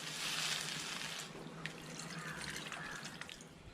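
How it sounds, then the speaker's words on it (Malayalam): Water is poured into a pot of boti curry, a gurgling, splashing stream with a few sharp drips and clinks near the end, close and fairly quiet, with no talking. "നമുക്കിനി തുറന്നിട്ട് ഇതിലോട്ട് ആവശ്യമുള്ള വെള്ളം ഒഴിച്ചെടുക്കാം"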